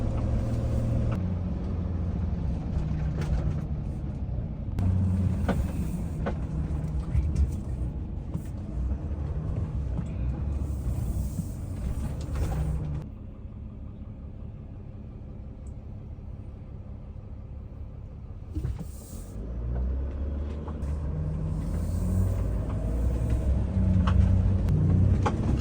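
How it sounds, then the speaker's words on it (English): Steady low road rumble and engine hum inside a fully autonomous, driverless car riding through San Francisco, continuous and fairly loud with a brief quieter stretch midway, no talking. "This is a completely autonomous vehicle. There's literally no one in the driver's seat."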